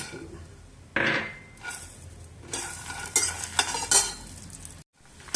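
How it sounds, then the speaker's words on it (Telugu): Dry red chillies and peanuts roast in a pan, with a spoon or spatula stirring and scraping in bursts over a steady sizzle, close and moderately loud, with a brief clatter of utensils. "ఎండుమిరపకాయలు దోరగా వేగిన తర్వాత వేరుశనగ"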